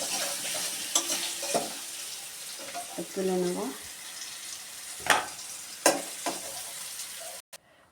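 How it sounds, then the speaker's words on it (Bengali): Potato and pumpkin pieces sizzle in hot oil while a spatula stirs and scrapes in sharp bursts, with a brief spoken remark partway through before the sound cuts off. "আলু আর কুমড়োটা ভাজা হয়ে গেছে এবার আমি এটাকে তুলে নেব"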